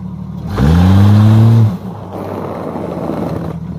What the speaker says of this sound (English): When I smash my throttle,